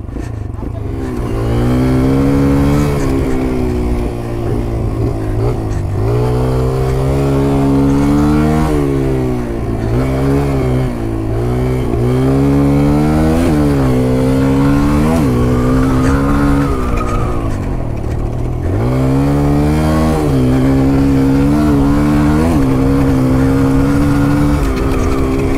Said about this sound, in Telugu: నా దగ్గర ఉన్న అన్నిటికంటే చిన్న బైక్ ఇప్పుడు ఇదే